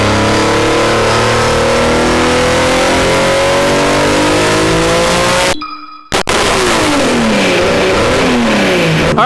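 A Nissan Skyline drift car's six-cylinder engine revs hard up and down in loud, close sweeping pulls, cutting out abruptly for a moment before firing back into more revving.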